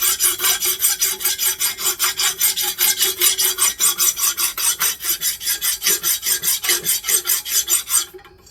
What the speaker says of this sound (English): you don't want to use a coarse file, you want to use a fine file, like this one